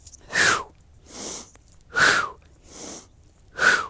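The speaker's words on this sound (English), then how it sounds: "now I'm breathing in through my nose and out through my mouth" Forceful breathwork: three sharp, loud exhales through the mouth alternate with softer inhales through the nose in a steady rhythm, close and alone.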